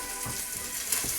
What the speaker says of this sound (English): Right, so you'll see here what I mean by properly browning your meat.